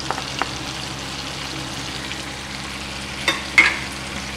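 Chicken with ginger and garlic fries in a pan for masala pulao, giving a steady close sizzle with a few brief clinks and scrapes of a spoon near the end.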